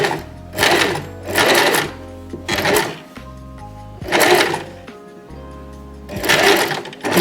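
An Empisal Expression 889 sewing machine stitching a buttonhole, running in steady bursts of rapid needle clatter with brief pauses between them, close and clear with no talking.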